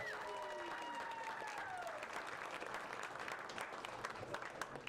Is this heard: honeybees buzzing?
no